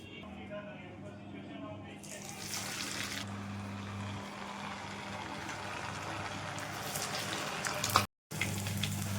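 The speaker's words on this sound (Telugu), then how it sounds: "నేను ఇప్పుడు కట్లెట్ తీసుకొని నూనెలోకి వేస్తున్నాను." A cutlet deep frying in hot oil gives a steady, loud sizzle and bubbling hiss that holds throughout, cut briefly by a short dropout near the end.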